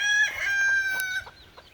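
Brown red chickens and a rooster on a farm yard: a single clear crow rings out, fairly close and loud, with soft clucking underneath before it fades.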